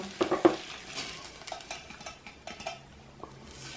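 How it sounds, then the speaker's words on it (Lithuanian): Hot boiled marinade splashes and trickles from a pot onto shredded cabbage and beets, with a few soft clinks of cookware and a quiet sizzle, close and fairly faint. "Pilam viską čia ant kopūstų."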